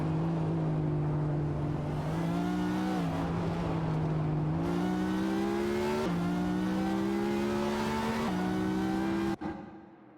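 Race cars run on a track in a racing video game, with a close, steady engine drone that rises in pitch in several stepped shifts, then cuts off abruptly near the end.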